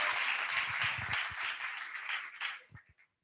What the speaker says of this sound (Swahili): Makofi jamani tafadhali.